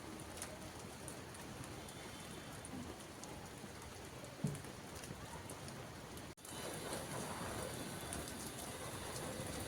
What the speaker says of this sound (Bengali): ঝিরিঝিরি বৃষ্টি পড়ছে তো এর মধ্যে